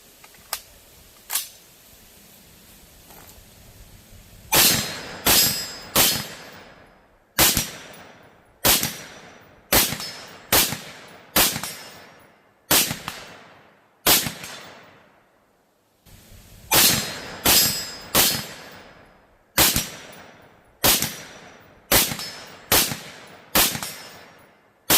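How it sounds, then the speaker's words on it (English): Springfield Hellion bullpup rifle fired outdoors, loud sharp gunshots, a couple of isolated shots then quick strings of rapid fire with echoing tails, pausing between groups. "I usually don't shoot this much ammo in a review"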